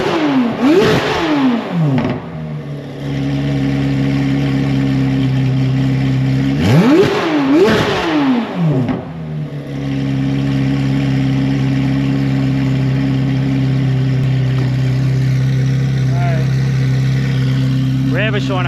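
A Corvette C8 Z06 with its catalytic converters deleted revs hard twice, each sharp climb falling back to a loud, steady idle drone, recorded close up with no talking.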